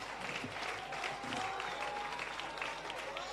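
Applause from an audience in a tent at a civil service long service awards ceremony for a music group, a dense, even wash of clapping with a faint tone and some voices underneath.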